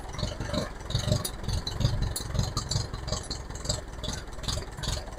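An old Massey Ferguson 2200 forklift engine idles roughly and close up, a steady low mechanical rumble with loose clattering pulses running throughout, no voices over it.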